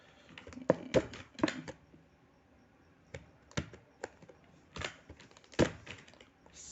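Fingers type on a computer keyboard in irregular bursts of close, crisp key clicks separated by short pauses, with no voices over them.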